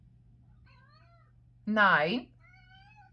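A tomcat lets out one loud, drawn-out meow close by, with someone speaking briefly before and after it.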